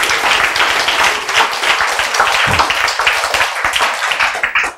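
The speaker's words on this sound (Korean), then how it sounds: "박수 쳐야지." An audience claps steadily throughout, dense and loud, a continuous wash of applause.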